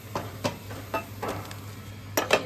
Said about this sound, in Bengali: বড়াগুলোকে উল্টে পাল্টে ভেজে নিচ্ছি